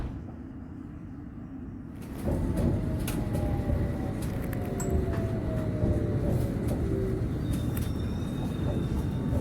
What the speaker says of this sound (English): This is a District Line train to Wimbledon.